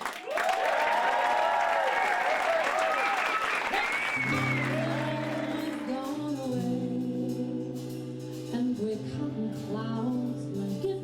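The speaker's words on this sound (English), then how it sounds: "A big round of applause for Ben." An audience applauds at the Melbourne Jazz Festival. Dense clapping fills the first few seconds, then thins and fades as sustained musical tones take over.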